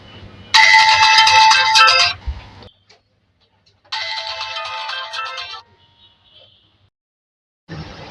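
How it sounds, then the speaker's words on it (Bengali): An Itel Vision 1 Pro phone plays its ringtone through the loudspeaker after a sound fault is repaired. Two loud, clear bursts of melody are separated by silence, and a short third burst begins at the end. "দেখছেন রিংটোন কিন্তু বাজতেছে"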